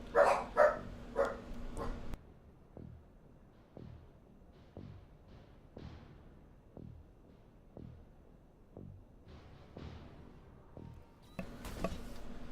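Several pet dogs bark inside a house, loud sharp barks repeating in a steady rhythm for about ten seconds before settling, with no talk over them.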